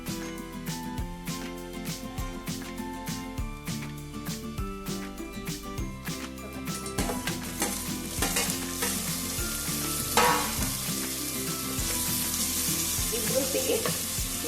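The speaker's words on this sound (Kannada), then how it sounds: "ಎರಡು ನಿಮಿಷ ಫ್ರೈ ಆದರೆ ಸಾಕು." Food sizzles in a pan while a spoon stirs and scrapes in quick repeated strokes, part of cooking Kumble Kasaragod-style bangude pulimunchi (mackerel); close and steady, the sizzle grows fuller toward the end with no talking.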